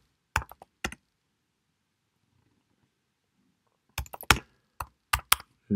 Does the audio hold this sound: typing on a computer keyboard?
yes